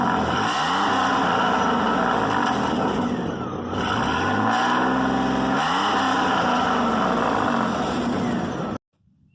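A GMC Sonoma pickup's 4.3 engine revs hard through a Flowmaster Super 10 single-in, single-out side-pipe exhaust, with a loud, continuous roar rising and falling in pitch across several throttle blips before cutting off abruptly.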